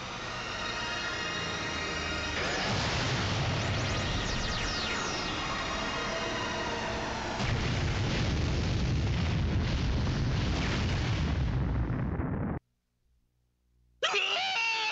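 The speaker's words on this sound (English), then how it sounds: "It's a spirit bomb." A spirit bomb attack in a horror video game erupts into a long, loud, dense roaring blast with crackling layers that swells midway, cuts abruptly to near silence, then bursts back in at the end.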